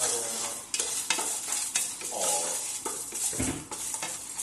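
Lentils dry roasting in a pan while being stirred for haleem, giving a steady soft sizzle with scraping stir strokes and light clinks, close by, with no voices.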